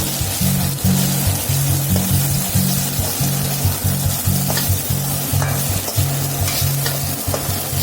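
Coconut rice frying in ghee in a pan gives a steady, close sizzle with a repeated rhythmic stirring scrape throughout, loud and continuous with no voices.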